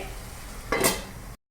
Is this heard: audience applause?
no